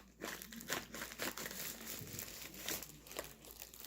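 Plastic bag crinkling and rustling in bursts while cornstarch is scooped out for slime-making at a craft session, close and fairly steady over several seconds.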